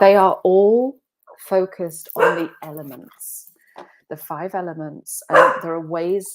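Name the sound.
dog barking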